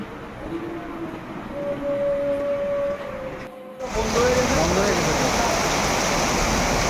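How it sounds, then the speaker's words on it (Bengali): Rain after a spell of hot weather falls as a steady, loud hiss close by, swelling heavier partway through, with a faint hum and passing tones underneath. "আমি নিজেও বৃষ্টির সাউন্ড অনেক বেশি পছন্দ করি তো সামনাসামনি থেকে বৃষ্টির সাউন্ড উপভোগ করলাম"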